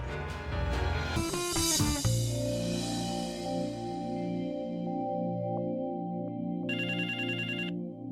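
A phone ringtone plays a melodic electronic tune, ending with a brief, bright burst of trilling rings. No one speaks.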